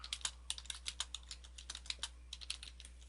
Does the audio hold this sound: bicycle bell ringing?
no